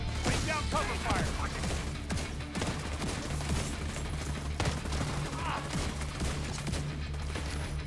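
Continuous video game gunfire in The Division, a dense, loud fusillade of rapid shots layered with crashes and game music that runs through the whole passage.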